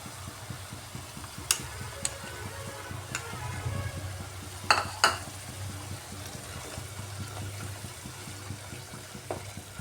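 Ground spice paste with tomato fries in oil for pointed gourd dolma, sizzling steadily while a spoon stirs and scrapes the pan, with a few sharp clinks standing out.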